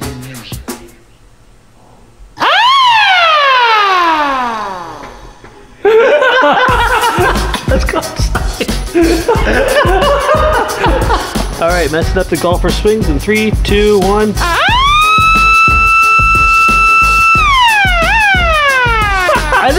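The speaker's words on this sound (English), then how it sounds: "So we ordered a couple different sirens here to see which one was gonna fit the best." A small 12-volt siren being tested for a scale RC Stuka model aircraft wails loudly, first in a falling sweep, then rising to a long steady tone before dropping off, with talking and laughter around it.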